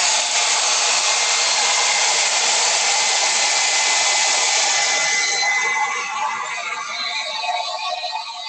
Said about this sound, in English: I'm going to take the blow dryer out quick and touch up my letters.